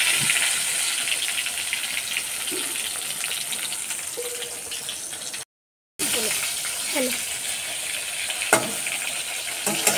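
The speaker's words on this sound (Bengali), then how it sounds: "এইবার আমি বেগুনটা ভেজে নিচ্ছি।" Eggplant slices sizzle in hot oil in a home kitchen, a steady crackling hiss with occasional clinks and stirring sounds, interrupted by a brief gap, no speech over it.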